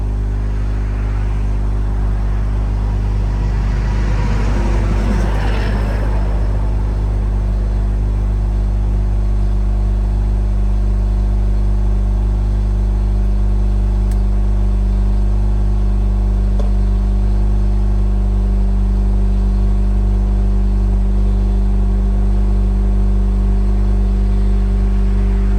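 A Mazda RX-8 rotary engine, started for the first time after an alternator and belt replacement, runs loud and steady at an elevated idle, a constant close drone with no voices over it.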